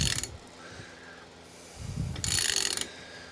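A thread chaser being worked by hand in a stripped or cross-threaded spark plug hole gives a few short metallic ratcheting clicks and scrapes, close and moderately loud, with pauses between turns.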